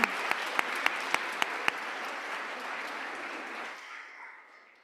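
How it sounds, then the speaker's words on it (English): Audience applause at a business plan competition final, a burst of clapping from a crowd that holds steady for a few seconds and then fades out; a few sharp claps stand out early. "one more round of applause for these amazing teams"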